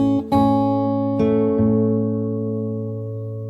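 Fingerstyle acoustic guitar picks a short phrase from a song: three or four plucked notes over a ringing low bass, close and clear, left to decay slowly with no voice.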